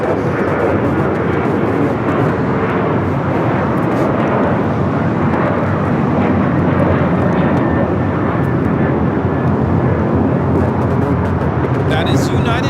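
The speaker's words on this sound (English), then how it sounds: "That is United Airlines 1298 taking off to Tampa, Florida on the 737-800" United Airlines Boeing 737-800, flight 1298 to Tampa, taking off at LAX with a loud, sustained, rumbling engine roar close by, steady throughout with a faint rising whine near the end.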